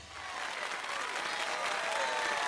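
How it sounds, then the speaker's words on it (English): Steady crowd applause fills the stadium in the Fire Emblem: Three Houses video game, a dense, continuous wash of clapping that holds at an even level throughout. "please give a big round of applause for our talented participants."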